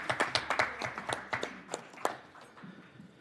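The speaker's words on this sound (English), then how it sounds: "So give these people a round of applause" In a legislative subcommittee hearing room, a small group claps in a scattered, quiet burst of hand claps that thins out and fades within a few seconds.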